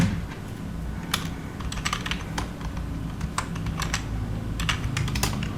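Fingers type an SQL query on a computer keyboard, producing a steady stream of close, crisp key clicks with occasional sharper taps, heard alone without speech.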